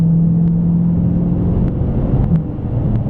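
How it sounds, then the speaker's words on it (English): A car's exhaust in sport mode gives a loud, droning low rumble with a steady, resonant tone and slight wavering throughout, heard close up with no talking. "That exhaust is freakishly loud. It's so droney, it makes my ears ring."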